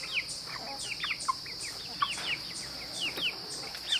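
Little chicks in a chicken coop peep and cheep in quick, scattered bursts, several birds calling over one another close by against a faint background hum.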